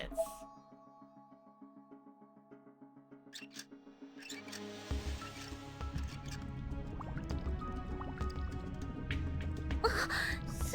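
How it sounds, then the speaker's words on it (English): Pool water draining in the horror video game Corpse Party starts as sparse, rhythmic dripping. It then swells into a continuous gurgling, sloshing flow that builds and stays fairly loud to the end. "Pool water should be drained now."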